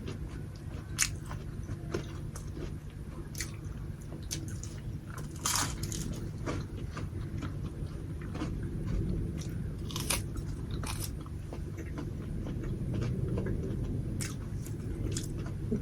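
Freshly fried kamote (sweet potato) tempura is bitten and chewed close up, with repeated sharp crunches and crackles over a soft chewing background, irregular bites spread across the stretch.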